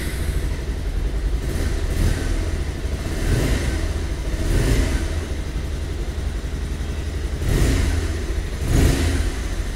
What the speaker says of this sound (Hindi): अब कर लेते हैं बाइक को स्टार्ट और सुनते हैं एग्जॉस्ट नोट।